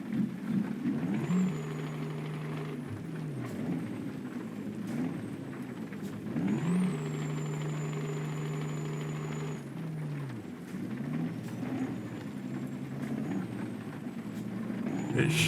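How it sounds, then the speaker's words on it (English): Heavy truck engine in Euro Truck Simulator 2 holding one gear, its low harmonic drone rising as revs climb, levelling off, then dropping before climbing again, with a thin high whine above; steady and close. "I don't like how it revs out in one gear for quite some time."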